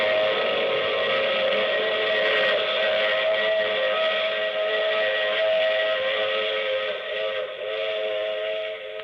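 A train whistle blows as a sustained, steady chord of tones over the rumble of a train, with no voices, produced as a sound effect for a radio drama.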